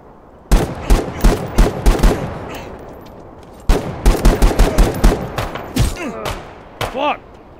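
Rapid handgun fire cracks out in The Day Before, two close, loud bursts of about six to eight shots each, separated by a brief lull, with a voice briefly heard near the end.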